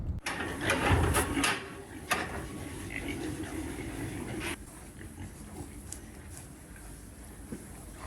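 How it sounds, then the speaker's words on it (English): Pigs backed up on a farm grunt and squeal amid clanking metal pens and gates, loudest at the start and then settling into scattered grunts and rattles. "There's so many pigs backed up on farm, and there's just nowhere else to put them."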